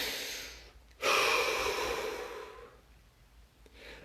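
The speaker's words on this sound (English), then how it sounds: "Deep breath." A single deep breath is drawn in, loud and close, as a long airy inhale that fades slowly, followed by a softer exhale.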